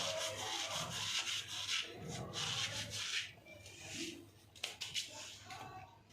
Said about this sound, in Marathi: आणि हा ओवा छान असा क्रश करून टाकायचा हातावर.